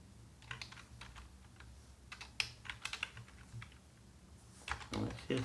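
Computer keyboard typing while writing HTML and CSS code for a website header: bursts of quick, light key clicks, close and fairly quiet, with pauses between runs and a faint voice underneath.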